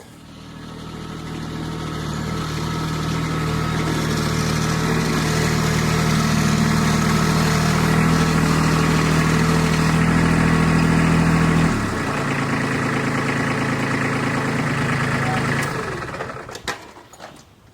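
Tractor engine idling steadily nearby through most of the stretch while raised garden beds are filled and leveled, a continuous low mechanical drone that shifts slightly in pitch midway and then cuts off near the end.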